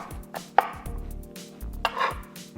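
Knife chopping basil leaves into thin strips on a cutting board, a few scattered close taps and soft cuts, fairly quiet.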